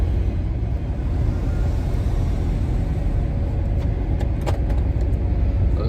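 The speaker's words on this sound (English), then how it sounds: "We're gonna drive for at least an hour." Inside a car driving along a road in a convoy, a steady loud rumble of tires and engine runs throughout, with a few faint light rattles near the end.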